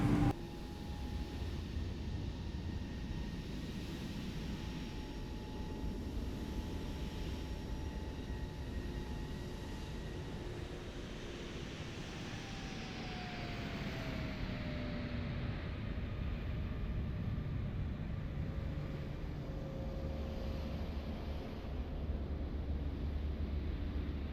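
Steady jet engine roar of a Boeing 777-300ER climbing out after takeoff in a flight simulator, a continuous loud cabin drone with a slowly falling whine as the engines settle.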